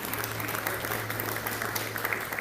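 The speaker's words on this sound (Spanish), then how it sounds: "Deseen un aplauso." Church congregation applauding during a service, a dense, steady patter of many hands clapping over a low constant hum, moderately loud and continuous.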